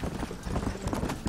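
Horse hooves clip-clop in the video game Red Dead Redemption, a quick brisk run of hoofbeats mixed with game ambience and a faint voice.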